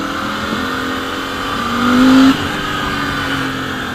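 A Royal Enfield Continental GT650 parallel-twin motorcycle pulls away in first gear, its engine note holding steady and then rising briefly to a louder peak near the middle before easing back. No one speaks.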